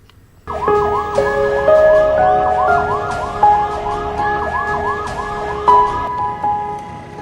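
Ambulance siren from a free critical care ambulance service in Srinagar, Kashmir, wailing loudly and steadily in repeating rising-falling sweeps for the whole stretch, with faint road traffic beneath and no talk.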